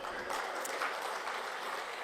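An audience at a Tamil stand-up comedy show claps in a faint, steady patter, heard from a distance with no voice over it.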